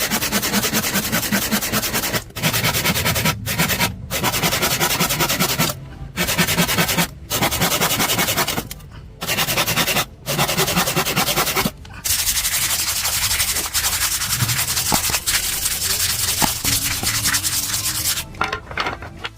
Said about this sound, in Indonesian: Setelah saya potong dan saya amplas, usahakan nanti diamplas supaya hasilnya lebih bagus